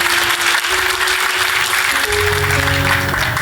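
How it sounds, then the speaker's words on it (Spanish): A church congregation breaks into loud, continuous applause during a sermon, with dense clapping throughout and a sustained tone or instrument underneath. "Fuerte el aplauso para el Señor"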